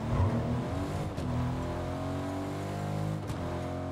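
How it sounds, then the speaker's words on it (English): Car engine in a video game, a steady harmonic drone that climbs and revs with brief shifts, close and continuous with no talk. "So I'm gonna take the car."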